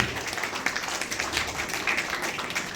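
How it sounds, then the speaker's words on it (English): Audience applause fills a doctorate celebration for Saroja Gullapalli, a steady wash of many hands clapping at moderate volume for under three seconds, with scattered brighter claps and faint cheering above it. "can we have a huge round of applause for everybody out here?"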